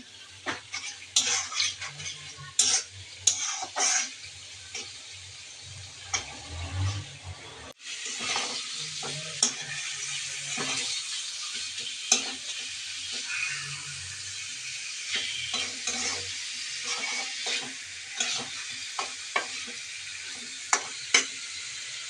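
Spice paste for fish curry frying in a pan, with a soft ongoing sizzle broken by irregular clinks and scrapes of the spoon against the pan, close and moderately quiet, with no voices.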